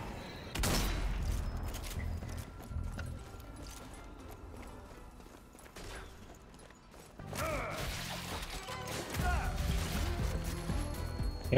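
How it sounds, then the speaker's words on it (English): Gunfire in the zombie shooter game Zombie Army 4, bursts of rifle shots mixed with game effects and background noise, with a voice talking over parts of it. "Y'all stop just randomly shooting the commander so we can shoot him in the fucking heart?"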